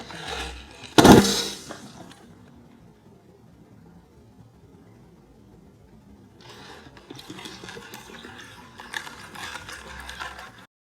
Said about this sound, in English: the pressure of the atmosphere literally crushes the can